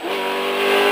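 Rally car engine at Imatra Rally revving under throttle, a loud rising whine that climbs steadily over a brief burst, with no talking.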